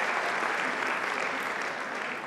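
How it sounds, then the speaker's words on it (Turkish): A large audience applauds at a career event, dense steady clapping filling the whole stretch at an even level with no talk over it. "Kocaman bir alkış alabilir miyim?"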